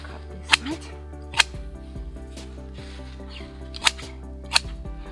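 Hand shears snip a shrub on a Japanese lantern mound, four crisp separate clicks spaced irregularly over a low steady background hum.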